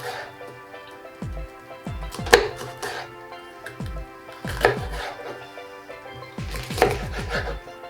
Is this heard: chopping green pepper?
yes